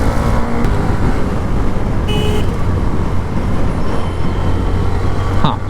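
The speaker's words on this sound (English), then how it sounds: "यहाँ ट्रैफिक बहुत है." Heavy road traffic heard from a rider's position on a Royal Enfield Hunter 350 cafe racer with a custom SC Project exhaust: a dense, loud, continuous roar of cars and engines with a short horn-like toot.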